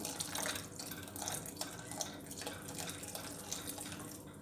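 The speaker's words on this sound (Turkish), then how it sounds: "Şimdi suyumuzu ilave edelim. Sıcak su." Hot water pours into a cooking pot of tomato soup base as a steady, soft splashing stream that continues throughout, fairly quiet with no talking.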